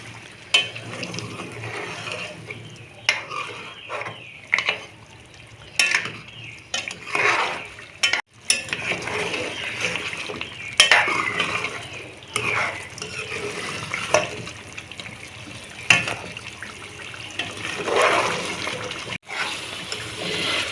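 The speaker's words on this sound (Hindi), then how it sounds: "मैं 5 मिनट इसको भूनती हूँ, इसका पानी बिल्कुल खुश्क करती हूँ" Mutton and yogurt stir-fried in a pot, with a steady sizzle of frying broken by repeated scraping and stirring strokes and a few clanks against the metal, close and fairly loud, with no voices.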